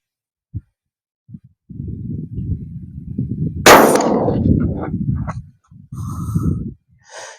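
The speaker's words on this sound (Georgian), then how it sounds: "გასროლა იქნება." A single sharp gunshot from a subcaliber sabot round cracks out at a firing range, loud and close, amid heavy breathing and rustling noise, with a few faint clicks before and after.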